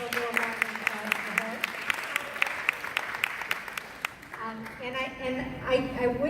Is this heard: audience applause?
yes